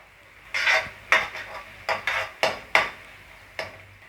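A utensil scrapes and taps against a pan while sautéing ginger garlic paste, in irregular strokes, with a faint sizzle underneath, close by.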